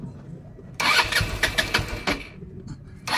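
A motorcycle engine that would not start sputters and catches after a push start, running roughly and loudly up close before briefly cutting out and firing again.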